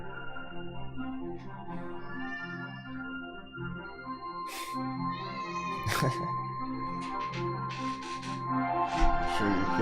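A house cat meows repeatedly near a live-streamed stock trading session, several short, clear mews spread across the stretch over a steady low background hum, with no talk.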